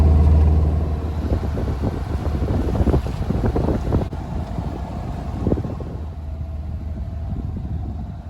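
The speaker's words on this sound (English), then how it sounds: "practicing maneuvering under power now, going forwards and backwards, doing circles, playing around with the prop walk" A sailboat's engine runs under power while the boat manoeuvres forwards, backwards and in circles, a low steady drone mixed with gusty wind noise on the microphone and a few bumps, gradually easing off.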